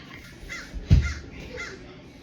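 Crows caw a few times at intervals, moderately distant, outdoors near a home, with a thump partway through and no speech.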